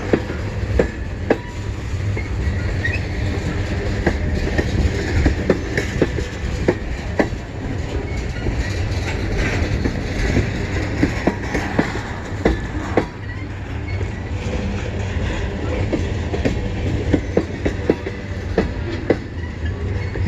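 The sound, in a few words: CN M382 northbound freight train passing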